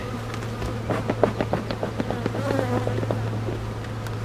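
Honeybees buzzing around a hive during a mid-June inspection, a soft steady drone with brief crackling ticks near the hive, fairly quiet and close with no talk.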